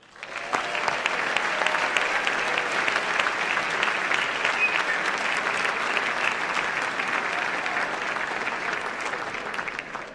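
Warm, sustained applause from a large audience at the White House Correspondents' dinner, steady and dense throughout as author Ron Chernow is welcomed, with no voices over it.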